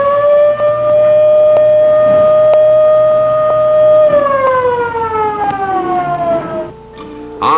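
A loud Federal Signal civil defense siren holds a steady, piercing wail, then winds down in pitch, heard up close in a siren factory with nothing else over it.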